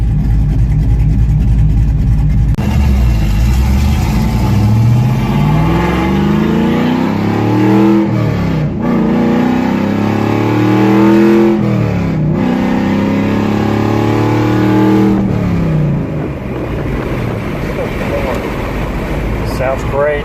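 Chevrolet Camaro engine with its muffler reattached after a dyno tune, revving loudly and repeatedly up and down for about twenty seconds, close by, with no talk over it.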